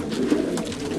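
Racing homing pigeons at a feeder in a loft, a soft, low cooing close by, continuous murmuring over about a second with no talk.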